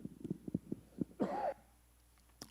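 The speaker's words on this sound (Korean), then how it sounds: "저의 기침은 엘러지성 기침이고 코로나와 관계없는 기침이라는 것을 말씀을 드립니다" A man lecturing in a seminary class gives a few quiet, dry allergic coughs in a short burst, followed by one throat-clearing rasp, faint and close.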